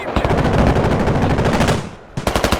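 Sustained machine gun fire in the Squad military shooter game, loud and close, a long continuous burst that breaks off briefly before resuming in sharp rapid shots.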